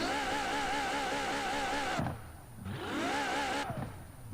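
An Apollo car engine revving in Forza Horizon 4, loud and close, with a wavering high idle breaking into two sharp rev sweeps that climb and fall, each ending in a crackling burble.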